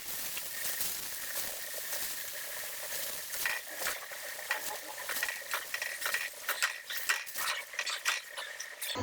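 Taro (arvi) pieces fry in hot oil and are lifted out, a faint sizzle under repeated scrapes and clinks of a metal utensil against the pan at an irregular rhythm.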